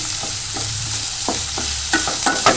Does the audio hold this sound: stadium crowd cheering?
no